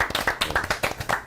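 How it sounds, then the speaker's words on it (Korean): A small studio audience at a Korean media union talk show claps in welcome for a guest broadcast journalist: a quick, brisk burst of close, rhythmic handclaps lasting just over a second. "박수."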